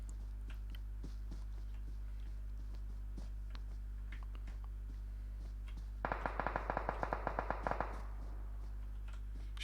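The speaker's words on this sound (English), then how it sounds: "Shots fired by the other Prometheus team." A quick burst of about a dozen sharp gunshots in PUBG Mobile, rapid and evenly spaced, rising out of a quiet low hum with faint scattered clicks before it.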